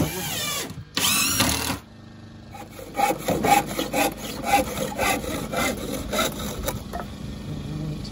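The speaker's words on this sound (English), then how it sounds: "So why did you cut it with the handsaw?" Pallet wood cut with a handsaw for a kitchen counter and cupboard in a pallet cabin: two loud rasping bursts, then a run of rhythmic, close saw strokes with some voices mixed in.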